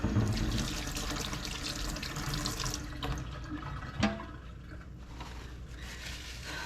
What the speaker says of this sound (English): Wash this butter off my hands.